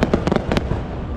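Fireworks burst over an island resort, a rapid volley of sharp, loud cracks and pops in quick succession, then a rumbling, crackling tail as the blasts die away.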